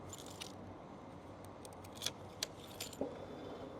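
A set of three keys for a 2008 Yamaha FZ-1S motorcycle jangles in several short, clear bursts over a quiet background.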